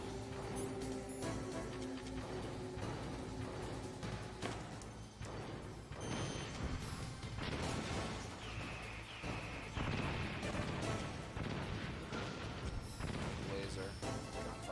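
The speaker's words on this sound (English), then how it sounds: "Laser, gunfire. Nope, rockets. Gunfire. Rockets." Metal Gear Solid combat sounds: bursts of gunfire and rocket blasts crash and boom in quick succession over a busy game soundtrack, fairly faint overall.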